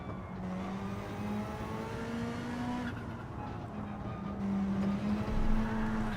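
A race car engine in a racing video game drones steadily and revs through gear changes during a lap, a continuous mid-level buzz with shifting pitch and no talk.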